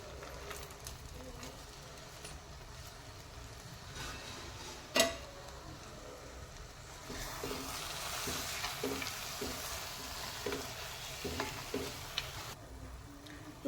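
Carrot halwa being stirred in a pan as fried dry fruits go in, a soft steady sizzle with one sharp clink of a spoon against the pan, then a louder scraping stir with rhythmic strokes toward the end.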